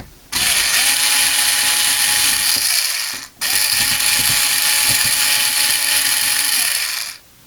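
A ratchet wrench backing out the screw that bonds the secondary heatsink to the chassis of a 300W FSP power supply, in two loud, sustained bursts of rapid clicking with a brief pause between them, heard up close.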